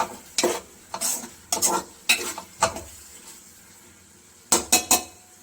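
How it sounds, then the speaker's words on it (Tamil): A metal spoon stirs ginger garlic paste in hot oil in a pan for chicken biryani, giving a series of close clanks and scrapes in quick bursts, a brief quiet pause, then three rapid strokes. "நல்லா கிளறி விட்டுட்டே இருக்கணும்"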